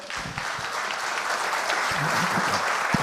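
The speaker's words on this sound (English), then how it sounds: "So give him a round of applause, Mr. Raoul Drapeau." Round of applause for a joke contest winner at a retirement community show, a dense burst of clapping from a roomful of people, steady and moderately loud, with a few faint voices underneath.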